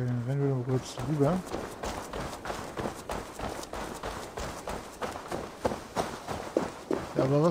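Running footsteps of a character in Assassin's Creed Valhalla, a quick regular patter of steps heard beneath someone speaking German for most of the stretch.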